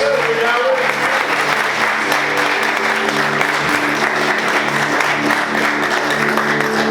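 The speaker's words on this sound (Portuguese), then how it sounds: "Aplauda Jesus com bastante alegria." A church congregation claps joyfully during a worship service, loud continuous applause with a steady low musical drone and faint voices underneath.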